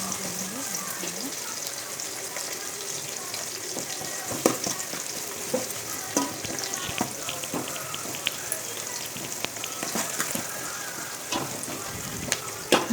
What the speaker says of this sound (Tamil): நல்லா வதக்கி விடணும். எல்லாம் வதங்கணும்.